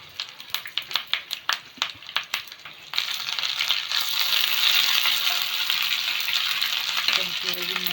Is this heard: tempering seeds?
yes